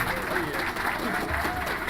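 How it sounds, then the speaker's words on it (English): Audience applause fills a convention panel room for a Legends of Equestria game presentation; the clapping is dense and continuous over the brief stretch, with voices mixed in. "they deserve a round of applause for the work they've done"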